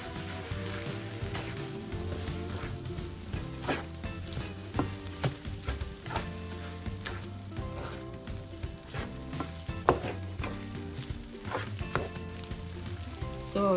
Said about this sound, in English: So you have to stir it.